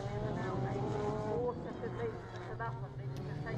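Mini race cars battling closely at a BRX 2019 round, engines revving and tyres scrabbling on loose surface, heard under a commentator's continuous voice.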